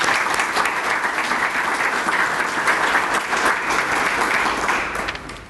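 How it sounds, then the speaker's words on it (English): An audience at an outdoor sculpture garden event applauds in a steady, dense wash of clapping that holds evenly for several seconds and then fades slightly at the end. "I really want to take a moment just to give another round of applause for all the separate organizations"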